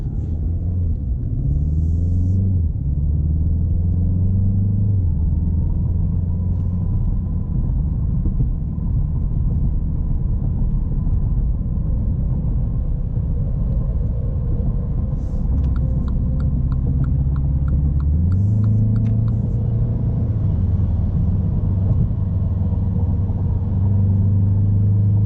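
Steady low engine rumble and road drone from inside a MINI Cooper S Clubman All4 with an 8-speed automatic, holding an even level with a few brief rises in pitch, no talking.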